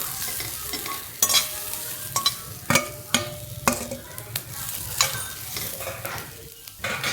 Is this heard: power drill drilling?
no